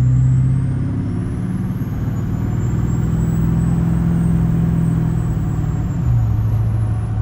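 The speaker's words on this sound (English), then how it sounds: "I'll get it exhaust braking up here, hold on." Diesel exhaust brake on a Duramax pickup fitted with drop-in turbos and a Stainless Diesel 5-blade exhaust, a loud, steady low rumble heard from the cab with a faint high whistle above it.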